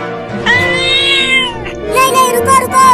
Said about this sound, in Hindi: मियाऊ, ये मियाऊ क्या है?